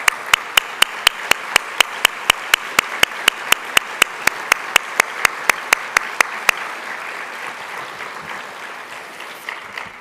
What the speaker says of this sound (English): would you please stand so we can give you a warm round of applause to all of our stakeholders.